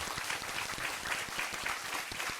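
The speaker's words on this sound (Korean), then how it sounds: "박수 한번 부탁드리겠습니다" Audience applause at a talk concert on climate and environmental leadership, a steady dense wash of many hands clapping throughout, moderately loud and without speech.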